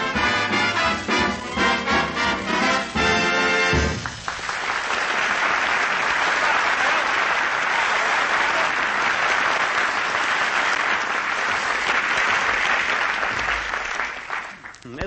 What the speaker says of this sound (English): He even puts applause on the record.